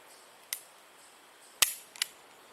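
A Beretta M9A1 .22 pistol firing Aguila subsonic hollow-point rounds at 5 yards gives one sharp, fairly light crack, preceded by a faint click and followed by a small metallic clatter, with no talk.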